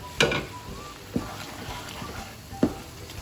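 Carrot halwa being stirred in a pan with butter: a few sharp scrapes and knocks of the spoon against the pan come at irregular intervals over a soft sizzle, close and moderately loud, with no talking.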